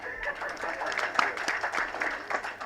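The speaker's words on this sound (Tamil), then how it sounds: "அதனால் தயவு செஞ்சு நீங்களே ஒரு தடவை கைத்தட்டிடுங்க." Audience clapping at a film audio launch event, a faint, dense patter of many hands spread evenly through the moment.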